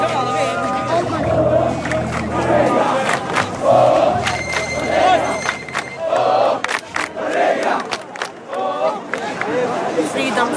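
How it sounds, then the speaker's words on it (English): A protest crowd chants in loud rhythmic waves and claps for an ambulance carrying the injured, with voices layered over street babble and brief sharp bursts. "They were chanting and clapping for the ambulance as it carried the injured on its way to hospital."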